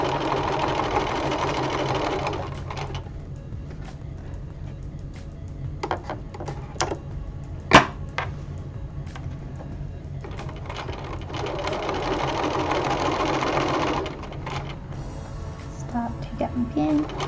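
A sewing machine runs in two long whirring bursts, stitching in reverse and then forward while making a ruffled apron, with quiet handling clicks and a sharp knock in the pause between.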